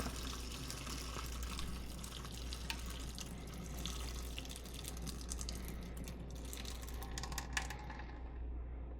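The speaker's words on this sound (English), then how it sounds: "I'm going to take this, just use our lid to strain it." Water being poured out of a cooking pot and strained past its lid, heard as a steady rushing splash with scattered clinks and drips over a low hum, continuous and moderately close, with no talking.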